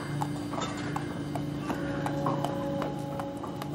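Horse hooves clip-clopping at a steady walking rhythm, the evenly spaced knocks moderately close and clear over a low ambient hum, with no one talking.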